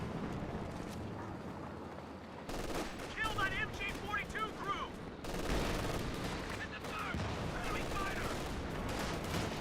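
Company of Heroes 2 battle audio with rapid machine-gun bursts and rifle fire suppressing German Grenadiers, dense overlapping volleys under a constant wash of battlefield noise after a quieter opening, with a voice talking over parts of it.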